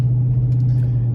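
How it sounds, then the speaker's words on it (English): Low, steady engine rumble from a car with a 5.7 HEMI fitted with a 6.4 intake manifold, droning loud and close on a test drive with no voices. "I'm taking the car for a test drive"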